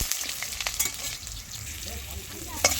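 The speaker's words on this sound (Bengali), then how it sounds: "এখন আমি আলুগুলো দিয়ে দিলাম, আলুগুলো ভেজে তারপরে মাংসটা করব।" Potatoes frying in hot oil in a home kitchen, a steady close crackling sizzle with scattered sharper pops and a brief louder spatter near the end, no voices.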